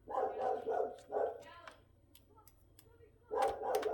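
A pet dog barks in a rapid series of close, loud woofs at the start, goes briefly quiet with small clicks and a faint whine, then starts barking again at the end.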